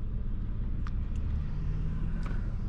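Steady low rumble of a 2003 facelift car driving through traffic, recorded from inside with a continuous engine and road drone and a few faint higher chirps, no talking.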